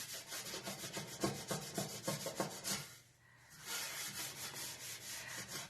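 Salt is scrubbed against burnt-on gunk in a pan, making rapid, rhythmic gritty rubbing strokes close up. They pause for a moment, then resume at the same brisk pace.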